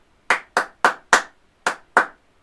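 Six crisp hand claps from a teacher in a primary music lesson, four quick even beats, a short pause, then two more, a patterned football clap rhythm heard close and clear.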